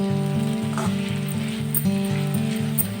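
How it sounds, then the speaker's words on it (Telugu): Ivy gourd (dondakaya) frying gently on low heat in a pan, a continuous soft sizzle with faint crackles and a steady hum, close and even, with no voices. "ఇవి సిమ్లో పెట్టుకుని వేపుకోండి."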